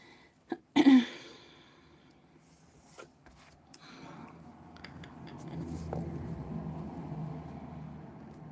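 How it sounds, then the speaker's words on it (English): A single sharp sneeze bursts out close by near the start, followed by a quiet room with faint low rumble and small incidental noises. "Bless you"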